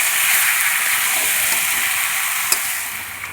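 Chicken pieces sauté with spices and turmeric in a hot pan, a steady, close hiss of frying oil with a light stir scrape near the middle and no voices.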